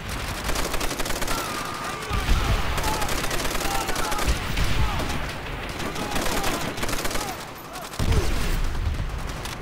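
Rapid gunfire in Call of Duty: World at War rattles in dense, continuous bursts, with distant booms and battle noise throughout and voices now and then.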